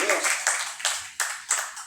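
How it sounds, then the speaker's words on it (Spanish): Congregation clapping along in a church service, a series of sharp rhythmic claps in bursts of roughly four beats per second, fairly close and moderately loud, with no clear talking over them. "Den las palmas para el Señor."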